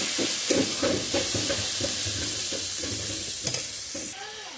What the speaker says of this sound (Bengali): দেওয়া হলো হলুদ, লাল মির্চ পাউডার, সব একসাথে ভালো করে কষানো হবে এবার